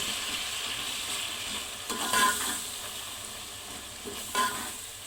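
Kashmiri chili powder sautéing in a pan for mixed masala rice: a continuous close sizzle with two brief louder scraping bursts as it is stirred, and no speech.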